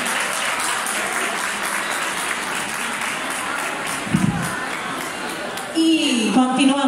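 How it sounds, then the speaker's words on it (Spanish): Loud, sustained audience applause at a wine festival award presentation, a thick wash of clapping from a large crowd that carries on until a voice starts talking over its tail. "Un fortísimo aplauso"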